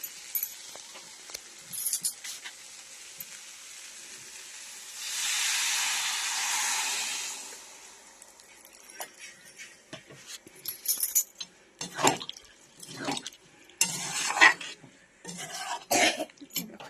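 Water is poured into a hot pan of ghugni, producing a sudden loud hiss of steam lasting a couple of seconds, followed by clinks of a utensil against the pan and a cough.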